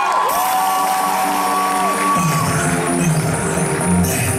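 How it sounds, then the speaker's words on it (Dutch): A loud crowd at the Mister Gay Belgium 2019 show cheering, whooping and applauding for contestant TrinXX, a dense, continuous roar with sustained tonal cries over the top. "Een luidkeels applaus voor Trinix!"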